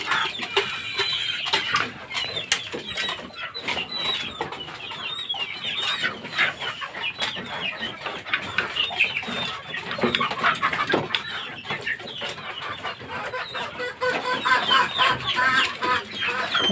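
Roosters and stags tethered in a Filipino gamefowl yard cluck and chatter repeatedly at close to moderate distance, overlapping calls filling the whole stretch with no talking.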